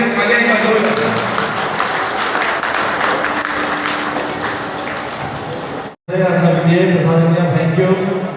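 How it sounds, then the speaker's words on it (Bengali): Audience applause at the opening of a carrom tournament at Adra North Institution, a dense, steady wash of clapping from a crowd that carries on loudly for several seconds, briefly cuts out, then resumes. "একবার জোরদার তালিয়া তালিয়া তালিয়া জোরদার।"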